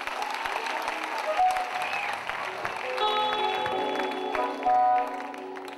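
An audience applauds at a church concert, steady close clapping that carries through the whole stretch with some tonal music sustaining underneath.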